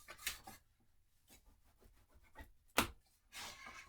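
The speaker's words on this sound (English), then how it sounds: "Put that in and burnish real well." Paper is burnished onto a page of a handmade mini album with short, quiet rubbing strokes, a few sharper scrapes standing out against near silence.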